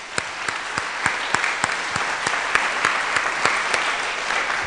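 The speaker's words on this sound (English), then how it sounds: "give all you guys a big hand clap again." An audience claps for the coaches at a community gathering, a steady wash of many hands with a few sharper, louder claps standing out in an even rhythm, sustained throughout with no talk over it.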